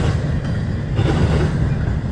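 A CSX freight train passes close on track 1 at night in high wind and rain, a steady dense rumble of wheels and cars that fills the whole stretch without a break.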